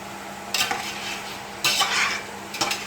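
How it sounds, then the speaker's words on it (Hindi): Mutton pieces being fried in a pot with a spoon stirring in three distinct bursts of scraping and sizzle over a quieter steady hiss, close and without any talk. "अब इसको 5-10 मिनट फ्राई भून लूँगी अच्छी तरह से"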